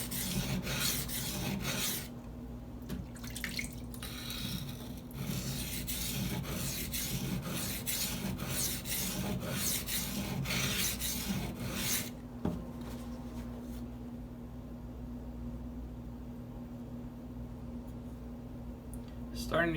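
A Spyderco Native 5 knife blade is ground on Gritomatic silicon carbide stones, producing steady back-and-forth rasping strokes up close that stop near the end, leaving quieter handling sounds.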